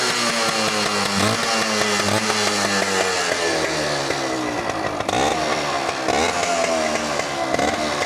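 A two-stroke motorcycle with a Yamaha RX-style exhaust beat revs loudly and close, its crackling, buzzy engine note rising and falling steadily throughout with no talk.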